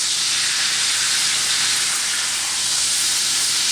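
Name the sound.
steak edges searing and sizzling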